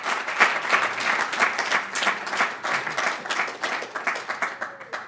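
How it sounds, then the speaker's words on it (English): An audience at a faculty talk on social change television breaks into a round of applause, a lively, even patter of many hands clapping indoors for several seconds. "let's get a big round of applause"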